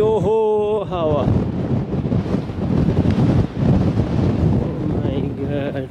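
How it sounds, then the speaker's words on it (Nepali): Strong wind roars steadily into the microphone at the Atlantic seashore in Nova Scotia, loud and continuous with gusting buffets, while a voice speaks briefly over it at the start and end. "to windy windy windy windy, ओहो हावा"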